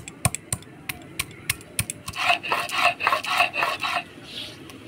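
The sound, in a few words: grinding ginger and fried spices on a grinding stone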